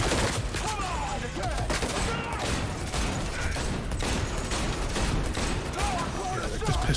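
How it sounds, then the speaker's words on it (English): Pistol gunfire during a mech fight in Cyberpunk 2077, rapid repeated shots forming a dense fusillade with mechanical clanks, loud and continuous over the whole stretch. "this pistol's going to take down the mech"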